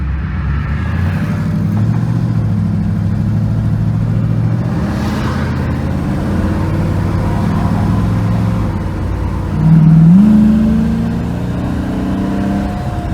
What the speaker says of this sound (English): we are gonna put it in drive and take a drive